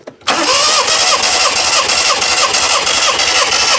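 Proton Satria engine cranking with the starter during a compression test, with a rapid rhythmic chugging whir that kicks in abruptly and carries on loud and close.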